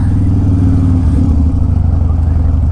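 A Harley-Davidson Dyna motorcycle rides away, its engine giving a loud, close, throbbing low rumble with a steady pulsing beat and a slight shift in tone partway through the short stretch.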